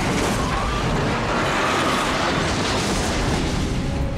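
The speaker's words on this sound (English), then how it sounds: "Separated by fate in a big explosion." A massive explosion in the video game Resident Evil 2 booms as a dense, loud roar of rumbling debris and fire that fills the whole stretch without letting up, with no voices.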